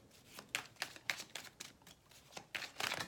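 Tarot cards riffled and shuffled by hand, a series of crisp papery bursts with two cards flipping loose, close and fairly quiet.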